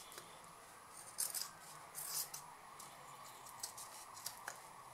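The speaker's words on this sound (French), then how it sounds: "Donc maintenant je vais découper l'excédent de tissu" Fabric scissors trim excess cloth from a sewn bag pocket, giving faint, quiet snips and crisp crunches scattered irregularly over a low background hiss, with no talking.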